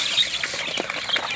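Chickens on a small local farm with chicks, a brief snatch of soft clucking and rustling close by.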